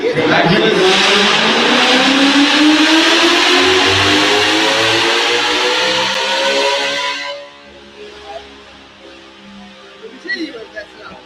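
A car engine on a dynamometer roars loudly, its pitch climbing steadily as it revs hard for several seconds, then cuts off abruptly, leaving faint background noise.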